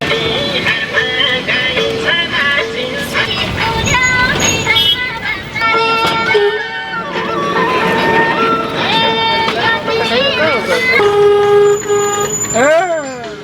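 Chaotic road traffic heard from inside a minibus, with car horns honking repeatedly, some long and wavering, over a steady engine and road roar.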